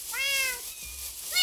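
A cat meows in Minecraft, two plaintive tonal meows, the first longer and falling, the second brief at the end, close and clear with no talk.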